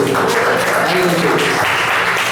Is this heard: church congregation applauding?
yes